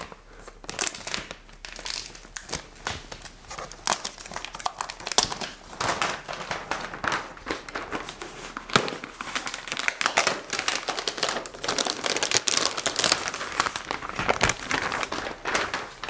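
Plastic protective packaging crinkling and rustling steadily while a Surface Studio 2 is unboxed, a dense, close, continuous crackle with small tearing bursts and no talking.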